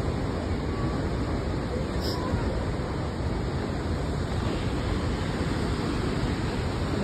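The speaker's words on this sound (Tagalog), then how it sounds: "Ito yung tinatawag nilang Crescent Falls." Water pours steadily over Crescent Falls, a dense, unbroken roar with wind buffeting the microphone throughout and no break in the sound.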